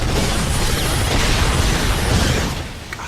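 A dense wash of booming blasts and rumbling debris in the racing game Split/Second, loud and continuous, easing off slightly at the end.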